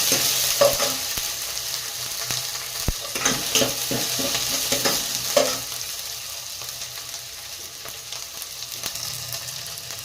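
Pigeon pea masala with fresh coriander leaves is stirred in a frying pan, a spoon scraping in uneven strokes over a steady close sizzle, with no one speaking.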